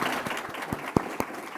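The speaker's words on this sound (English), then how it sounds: "I'll give them a round of applause." Scattered applause from a summit audience for a panel, fairly quiet, with a handful of distinct claps standing out over a soft wash of clapping.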